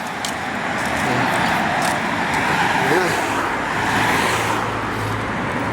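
Steady traffic rushes past on a UK highway, a continuous broad roar of cars and heavier vehicles close by with a slight swell mid-way, heard alone without talking.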